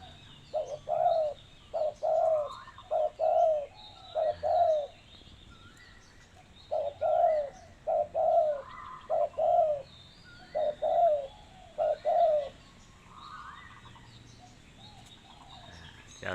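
A spotted dove coos in repeated short phrases, rhythmic soft hoots with pauses between groups, moderately near over quiet background.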